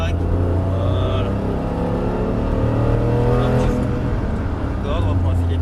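GT3 race car engine on a track accelerates with a loud, sustained roar that holds steady, heard from close inside while an instructor talks over it.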